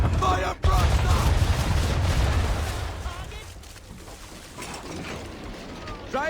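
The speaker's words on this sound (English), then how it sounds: "Make ready! Fire broadside!" A ship's cannon broadside roars in the video game Assassin's Creed III, a loud rolling barrage of booms and rumbling that swells at the start and then trails off into a fading low roar.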